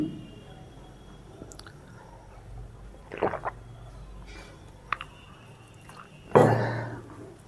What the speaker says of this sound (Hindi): मैं 1 मिनट पानी पी लूँ।